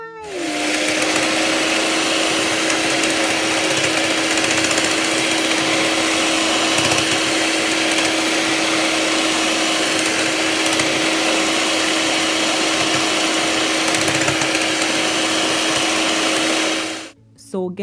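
An electric hand mixer whips a Dragon Stout ice cream mixture with a steady, close, high whine. It runs almost unbroken for about sixteen seconds and stops sharply at the end.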